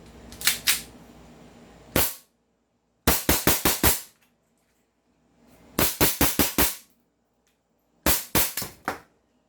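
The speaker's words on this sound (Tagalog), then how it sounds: "Firing po tayo mga airsoft." An M4A1 RIS airsoft rifle fires in four quick bursts of sharp, snappy shots, three to five shots each, loud and close with short silent gaps between bursts.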